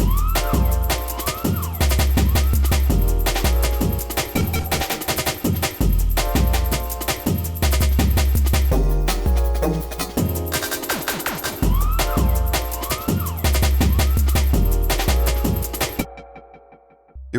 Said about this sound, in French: donc une sirène classique